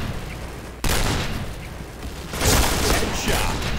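Grenade blasts in a multiplayer shooter, set in a library. A sharp loud burst arrives suddenly after a quieter stretch, then a second heavy rumbling boom follows, with dense game noise throughout.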